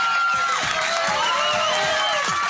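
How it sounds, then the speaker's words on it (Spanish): A television singing-contest audience cheers and applauds for a contestant, a dense, loud, continuous roar of the crowd with high shouts and whoops rising over it. "Fuerte el aplauso para Esteban"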